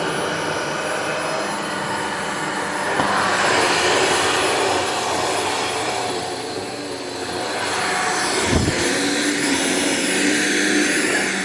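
A Shark Vertex Speed Duo Clean vacuum runs on a hard floor with a steady close whirring roar that rises and falls slightly as it moves, plus a brief bump partway through, with no talking.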